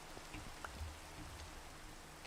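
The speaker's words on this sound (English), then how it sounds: "Why the hell does it rain every time I record?" Rain falls in Minecraft as a soft, steady hiss with scattered faint drop ticks, quiet and continuous throughout.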